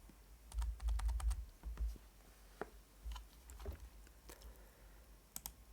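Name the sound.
computer keyboard arrow keys being pressed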